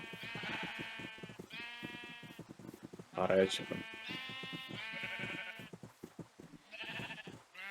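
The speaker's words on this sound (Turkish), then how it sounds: "Deli gibi koyun getiriyorum şu an." A flock of sheep in a survival video game bleats repeatedly, in several overlapping calls, while a player talks over them.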